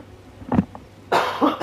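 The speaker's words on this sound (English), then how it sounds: "I'm gonna have a cough." A man coughs twice, close and loud, with a sharp first cough and a rougher second one.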